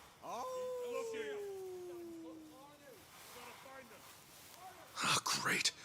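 A person imitates a dog with a long whining howl and yelps, close and fairly loud, followed by short bursts of voice and noise.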